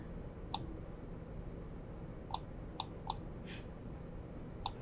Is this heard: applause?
no